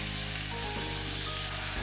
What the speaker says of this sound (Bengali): আমি এতে মেথি শাকগুলো দিয়ে দিচ্ছি।